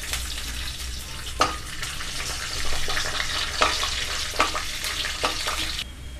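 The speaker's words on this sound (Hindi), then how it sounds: "तेल डाल लेंगे, उसके बाद मूंगफली को रोस्ट करेंगे हम।" Peanuts roasting in hot oil in a kadhai, a dense continuous crackling sizzle broken by several sharp scraping strokes of a spoon, close and fairly loud with no talking.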